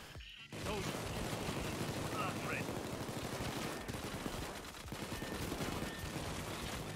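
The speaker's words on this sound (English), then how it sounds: "let me shoot the lock off" Gunfire in a video game as a lock is shot off, dense and loud from the start and continuing as a steady barrage of shots with mechanical clatter throughout.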